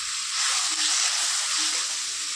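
Onion, ginger-garlic paste and chopped tomato fry in a hot pan, giving a steady, close, bright sizzle that holds without a break and has no talk over it.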